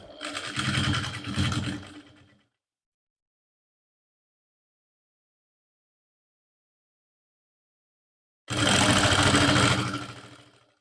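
A sewing machine stitches the shoulder seam of a lined suit, running in two loud bursts, one brief at the start and another near the end, with silence in between.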